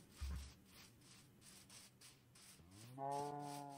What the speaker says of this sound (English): There's a cow over here.